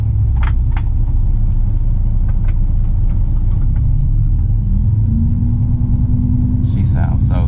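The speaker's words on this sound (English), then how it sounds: "She sounds so good when you throttle it up. That big Cummins is nice." A truck's big Cummins diesel engine rumbles loudly and steadily from close by as it is throttled up, a deep continuous drone with faint clicks and rattles on top.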